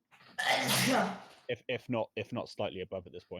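A single loud sneeze bursts out near the mic, followed by a person talking.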